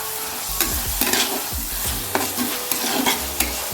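Tomato, green chilies and curry leaves tossed into a frying prawn curry in a pan, loud sizzling with repeated spatula scrapes and knocks against the pan at an irregular rhythm, close by and without talk.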